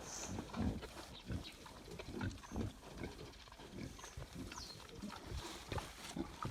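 Low snuffling grunts from small pigs, repeated and irregular, fairly close, over a busy outdoor background with no clear speech.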